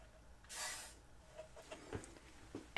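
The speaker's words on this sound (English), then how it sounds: "That was no sound effects, just the WD-40 silicone lubricant." WD-40 silicone lubricant sprayed from an aerosol can into a cup, one steady half-second hiss followed by faint clicks and handling noises, close and quiet.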